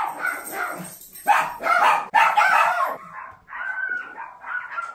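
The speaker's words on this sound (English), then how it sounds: "My dogs have this really interesting quirk to where once they see a stranger, they stop barking and start screaming" Dogs bark and yelp frantically at a stranger at the front door, loud and close in a house, with bursts of high shrill barking.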